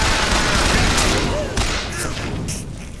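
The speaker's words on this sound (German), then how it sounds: "Ich mach dich nen Kopfschuss!" Gunfire during a Bioshock Infinite shootout, a dense burst of shots filling the first half and tapering off, loud and busy with game noise, while a voice talks over it.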